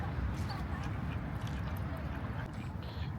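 Ducks quack while being fed, a few faint calls rising over a dense, noisy outdoor background of low rumble and chatter.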